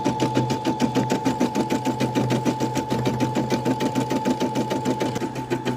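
A Brother SE600 embroidery machine stitches out a design with a fast, even mechanical chatter and a steady hum, close and loud throughout, no voices.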